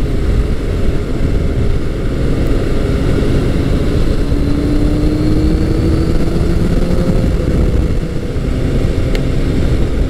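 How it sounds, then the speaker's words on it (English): A four-cylinder motorcycle engine drones steadily at just over 60 mph, a constant buzzing hum mixed with rushing wind noise, close and loud throughout. "There's a little bit of a buzz through the handlebars from the four-cylinder motor"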